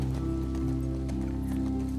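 A horse gallops in The Last of Us Part II, its hooves beating in a quick, steady clip-clop over a soft background.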